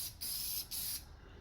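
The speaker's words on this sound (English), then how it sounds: "I'll give this another spray" Two short bursts of aerosol spray can hiss against a car panel on a KE70 Corolla under repair, each lasting about half a second with a brief gap between, close and loud.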